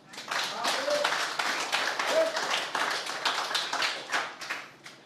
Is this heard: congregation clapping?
yes